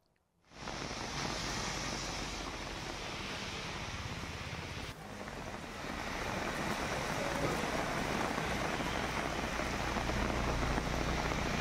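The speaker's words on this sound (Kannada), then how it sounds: "ಇವತ್ತು ಬೆಳಗ್ಗೆಯಿಂದ ಸ್ವಲ್ಪ ಜಿಟಿ ಮಳೆ ಬೆಂಗಳೂರಿನಾದ್ಯಂತ ಸುರಿತಾ ಇರುವಂಥದ್ದನ್ನು ನಾವಿಲ್ಲಿ ನೋಡ್ತಾ ಇದ್ದೀವಿ" Light drizzle falls across Bengaluru as a steady, even hiss of rain that holds at a constant level with no voices, dipping briefly midway before resuming.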